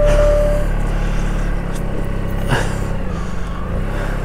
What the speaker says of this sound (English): Bit of throttle.